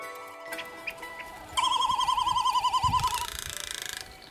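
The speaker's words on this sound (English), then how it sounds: "is the great frigate bird." A great frigatebird calls in the tropics with a loud, rapid, warbling trill lasting over a second, set against softer bird chatter and ambient noise before and after.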